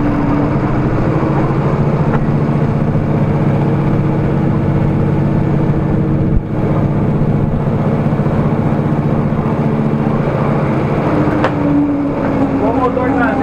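A rear-engine municipal city bus in Itaquaquecetuba climbs a steep hill in second gear, its engine a loud, steady drone with a constant low rumble and one brief knock midway.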